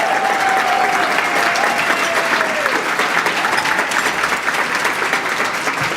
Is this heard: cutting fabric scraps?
no